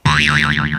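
A single springy boing effect, a wobbling twang that bends up and down in pitch for under a second, loud and alone.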